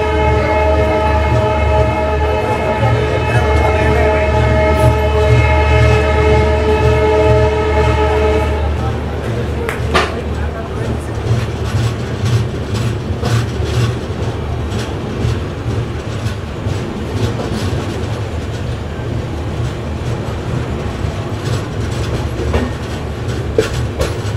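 Humsafar Express train rolling through Yesvantpur Junction in Bengaluru: a steady, loud rumble of wheels and carriages, with a sustained horn sounding over the first several seconds before the running noise carries on alone.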